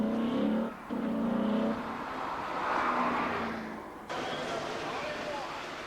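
A Corvette ZR1 engine hums and whirs as the car drives on a road test, a steady moderately close motor note that swells and eases, with a voice talking over it.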